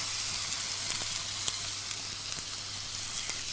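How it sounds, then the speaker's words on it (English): A sirloin steak sears in a hot pan with a loud, steady sizzle and crackle, punctuated by small pops and spits, close up with no talking. "Press the steak down with your tongs to make sure it's in good contact with the pan."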